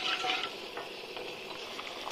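Wheat halwa with milk and palm jaggery being stirred in a pan, a close, continuous scraping and soft bubbling sizzle with a few light utensil knocks against the pan.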